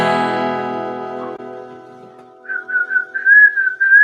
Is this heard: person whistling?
yes